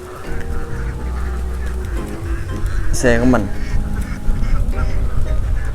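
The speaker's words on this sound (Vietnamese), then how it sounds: "con vịt nó tới rồi," A large flock of ducks on a river in flood season quacks and honks in a steady, close chorus, with a person speaking briefly over them.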